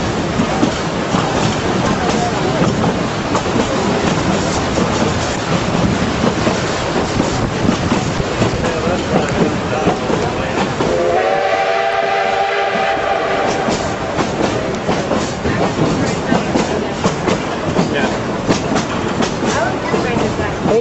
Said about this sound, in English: we're on the train. We just left Durango.